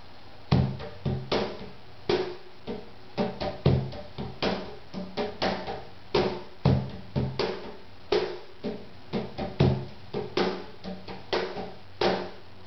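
Slow, steady hand drumming on a cajon, an opening six and a closing six pattern played back to back, deep bass thumps alternating with sharper slaps, played alone with no talking.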